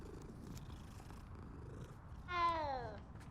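A cat in the Hogwarts Legacy video game purrs softly and steadily, then gives a single brief meow-like cry near the end, all fairly faint against a quiet game background.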